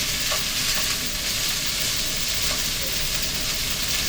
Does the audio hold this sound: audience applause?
no